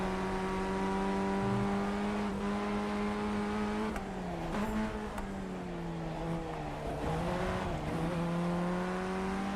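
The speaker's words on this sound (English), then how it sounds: "This car sounds like a dinner tray." A sim racing race car engine at the VIR racetrack drones steadily at high pitch, loud and continuous, with brief dips and shifts in tone as it slows and picks up again.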